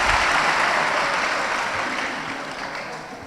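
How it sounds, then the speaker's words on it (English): An audience at a talk on democracy and the rule of law claps in dense, sustained applause that starts full and fades slowly over a few seconds. "Clap for yourself."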